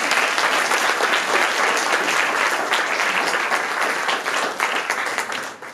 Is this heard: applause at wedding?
yes